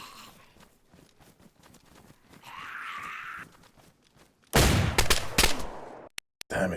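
Gunfire in the zombie survival game DayZ: a dense burst of loud, broadband shots in the middle of the clip, followed by a few sharp isolated cracks, after quieter footsteps and rustling.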